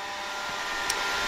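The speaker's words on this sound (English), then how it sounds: "That sound is the vacuum." A vacuum cleaner runs in an office in a steady, loud, broadband whoosh that holds constant throughout, with no talking.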